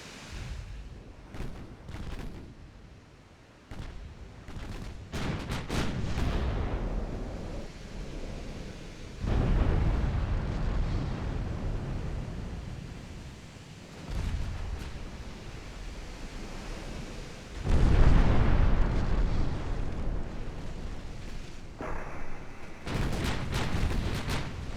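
Battleship guns firing shells in Ultimate Admiral: Dreadnoughts during a naval battle against French battleships, deep rumbling booms at irregular intervals over a constant roaring sea-like background, fairly distant and muffled.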